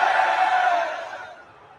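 A large WWE crowd in Philadelphia roars and boos at The Rock, a loud sustained mass of voices that gradually fades away.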